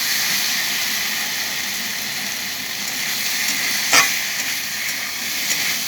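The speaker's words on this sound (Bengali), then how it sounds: "আমার মশলাটা ভাজা ভাজা হয়ে গেছে" Spice masala for kofta curry fries in a pan with a loud, steady sizzle, close and continuous, with a brief clink of a stirring utensil partway through.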